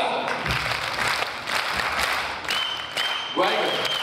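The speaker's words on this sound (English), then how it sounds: "And clap again this side." Audience clapping at a dance workshop during a cultural night, a steady wash of many hands over several seconds, with a voice speaking briefly near the end.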